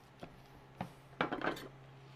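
A knife cuts a quesadilla into thirds on a board, a few soft, close taps and scrapes against the surface, with a brief cluster of clinks near the end.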